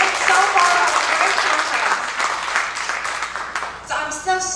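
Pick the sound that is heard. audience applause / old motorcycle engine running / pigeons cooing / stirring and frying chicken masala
audience applause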